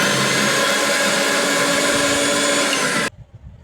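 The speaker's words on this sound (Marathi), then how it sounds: "यात लसूण आणि मिरची टाकलेला आहे मिक्सरमध्ये." A mixer grinder whirring at full speed as it grinds garlic and green chilies, a loud steady motor roar that cuts off abruptly near the end, leaving quiet room sound.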